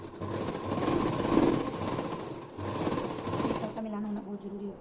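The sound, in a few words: sewing machine stitching a salwar belt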